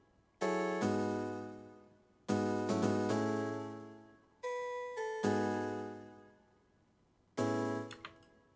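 A synthesized one-shot effect from the X7 crosshair schematics, playing as four separate bright, tonal hits with sharp attacks and long decays, the last one ending in a brief fluttering tail.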